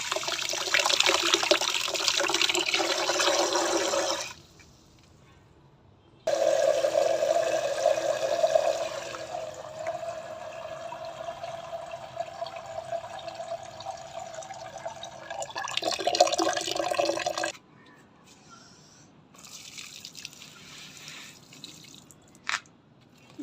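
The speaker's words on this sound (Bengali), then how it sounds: "গাছগুলো একটু জল দিয়ে দেই," Water running from a rooftop tap while plants are watered, a hissing, splashing flow that starts and stops in several bursts with quiet gaps between, close by and without talk.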